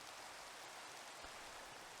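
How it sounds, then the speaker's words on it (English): Steady rain falling in a Minecraft-style video game, a continuous even hiss of rainfall with no breaks, moderately quiet and unaccompanied by talk. "I'm just going to play the weather because it's raining."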